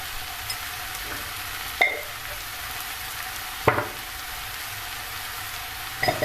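Onions sautéing in a pan with red chili powder added, a soft continuous sizzle with a few sharp clicks of a utensil stirring, fairly quiet and close.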